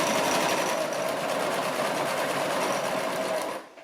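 A Brother LX-3125 sewing machine stitches apron fabric in a loud, steady close-up whir that runs without pause and stops at the very end.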